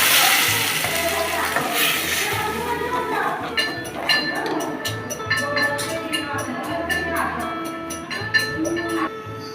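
Blended onion paste fries in hot oil with a crackling sizzle, joined by spoon stirring and occasional clinks against the pan while someone talks over it.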